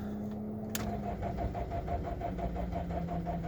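A BMW E46 320d diesel engine, recently run dry and refuelled with a few litres of red diesel, cranks steadily on a weak battery with a rhythmic churning that does not catch, heard close and moderately loud.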